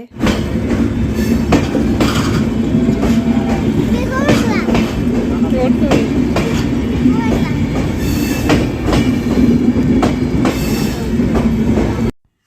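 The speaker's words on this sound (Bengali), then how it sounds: "আর এই তো ট্রেন কিন্তু চলে এসেছে" A train rolls past close by, wheels clattering rhythmically with occasional squeals and a steady rumble throughout.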